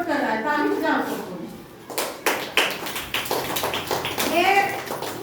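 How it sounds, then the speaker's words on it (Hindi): Children clap together at a school parent-teacher meeting, a quick burst of scattered handclaps following spoken words, with voices continuing over the clapping. "ताली बजाओ सबको"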